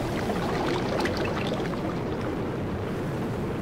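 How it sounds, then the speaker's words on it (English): Water splashing as a player jumps into water in Minecraft, a steady rushing, pouring wash that stays loud and continuous throughout with no talking. "You want to know what jumping in water sounds like? Here you go. Here's jumping in water."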